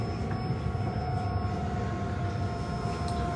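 Romania's first newly purchased electric train in 20 years gives a steady rumble with a sustained high electric whine. The sound is even and continuous throughout, with no voices.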